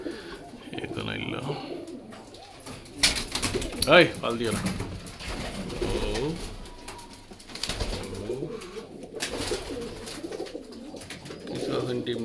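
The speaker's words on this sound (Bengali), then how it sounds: "তো যাই হোক, কবুতর দেখাইলাই।" Pigeons coo softly in a home loft while a person speaks nearby, with faint rustling and background noise around the birds.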